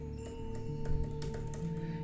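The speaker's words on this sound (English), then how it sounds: "Hear me typing." Fingers type on a computer keyboard in quick, uneven clusters of close key clicks over a steady electrical hum.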